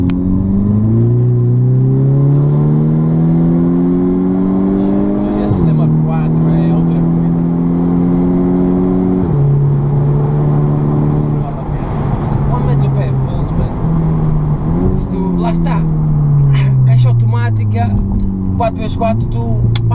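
A VW Golf R with four-wheel drive accelerating at full throttle, the engine note climbing steadily through several gear changes with brief dips between, loud and close from inside the car, while someone talks over it.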